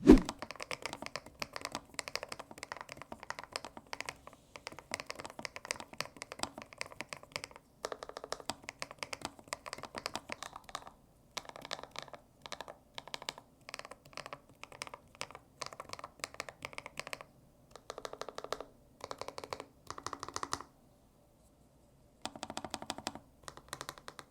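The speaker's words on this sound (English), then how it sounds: "Let's do a typing test." Rapid, steady typing on an Epomaker G84 Pro silicone keyboard, close and crisp, in long bursts of keystrokes separated by brief pauses.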